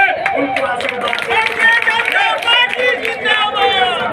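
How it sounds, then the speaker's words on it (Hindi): A crowd at a public gathering in a rural panchayat, claps and cheers for Modi at a tap-water scheme foundation-stone event; dense, steady applause mixed with crowd chatter throughout. "हम चाहते हैं एक बार राज्य पंचायत की जनता मोदी जी के लिए ताली बजा करके उनको आशीर्वाद"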